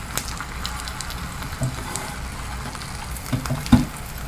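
Food sizzles and crackles steadily in a pan on a home stove at medium heat, a close, continuous frying hiss with occasional louder pops.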